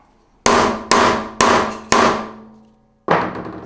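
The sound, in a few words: mallet striking curly Jarrah timber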